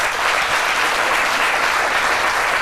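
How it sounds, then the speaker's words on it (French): Studio audience applauding in a French television talk show, a dense, loud and steady wash of clapping that holds evenly throughout without any voices over it. "ça s'applaudit"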